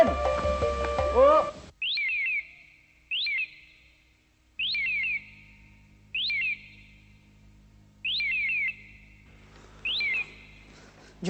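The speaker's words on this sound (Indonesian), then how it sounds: "ada murai berkicau" Magpie robin singing in repeated short bright whistled phrases, about six bursts spaced a second or so apart, clear and fairly close, following a brief voice at the start and over a faint low hum.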